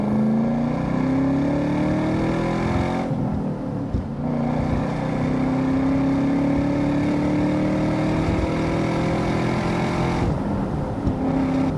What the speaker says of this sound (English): we'll do a second to third gear pull here